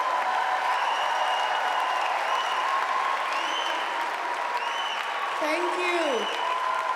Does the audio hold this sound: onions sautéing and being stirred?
no